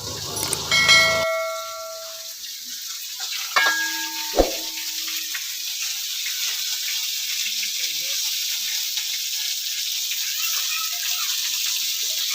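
Fish fries in a kadai, giving a continuous, close sizzling hiss that holds steady throughout, with a few brief bell-like tones and a sharp knock near the start.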